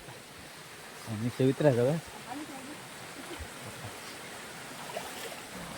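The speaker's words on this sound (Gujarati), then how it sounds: "અવાજ સાંભળો ખાલી પાણીનો" A stream near the Galdhara Khodiyar temple at Dhari rushes with a faint, steady hiss, and someone speaks briefly over it.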